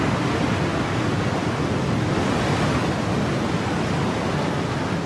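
Water floods a dry dock at Jinhae Bay, where watertight tunnel segments for an underwater highway sit waiting to float. A loud, steady, unbroken rushing roar fills the whole span with no pauses.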